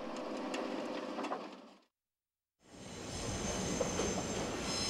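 Nagano Electric Railway's Yukemuri limited express running north across a basin, a steady loud rumble that cuts out abruptly for under a second, then returns as dense rolling wheel noise with a high whine.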